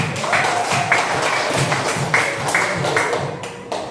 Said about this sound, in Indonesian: sekarang beri tepuk tangan untuk kelompok 1